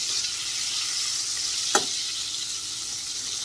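An oil and butter mixture sizzles steadily in a pan for chicken stir fry pasta, a soft constant hiss at moderate volume with one brief scrape of a fork partway through.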